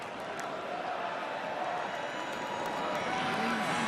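A college football stadium crowd at Wisconsin versus Minnesota chanting for running back Melvin Gordon, heard as a broad, distant crowd roar that swells slightly toward the end, with a commentator talking over it.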